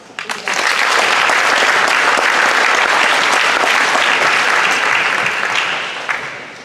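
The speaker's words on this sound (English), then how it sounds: "give them another round of applause" A school awards assembly crowd bursts into sustained, dense applause for art contest winners, loud and steady for several seconds before tapering off near the end.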